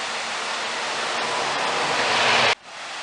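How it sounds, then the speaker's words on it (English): A small waterfall beside a road in the Mendips gives a steady, loud broadband rush of falling water, unbroken for about two and a half seconds before it cuts off abruptly. "What's really nice here is this stunning little waterfall."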